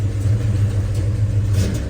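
A cold 1969 Chevrolet Chevelle V8 rumbles steadily and close at a low idle, swelling slightly under a light touch of throttle.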